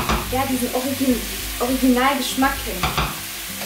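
Masala spices and sauce frying in a pan for a chicken curry, stirred with a scraping utensil over a steady sizzle, while a person talks close by.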